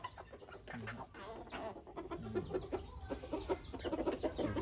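Hybrid junglefowl chickens, adult birds, clucking in a farm pen, with repeated short calls close by over a steady background of other fowl and farmyard noise.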